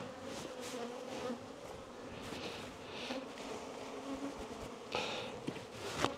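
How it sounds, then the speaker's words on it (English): A low, steady buzz of a mass of bees shaken off a frame close by, with faint rustles and a couple of soft thumps scattered through. "Let's go ahead and get us a good shake of bees."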